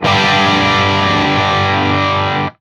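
A single strummed guitar chord through a BOSS OC-3 Super Octaver pedal rings as a thick, loud, gritty sustained tone for a couple of seconds, then cuts off abruptly.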